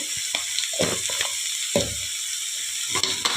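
Chopped vegetables with salt fry in a pan for homemade fried rice, a steady close sizzle broken by several scraping, tossing stirs of a spatula.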